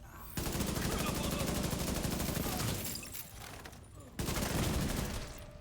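Sustained automatic rifle fire in The Division 2 rattles in rapid, continuous bursts, broken by a brief pause before another long burst; loud and close throughout.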